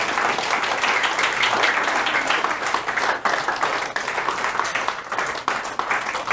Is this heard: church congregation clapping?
yes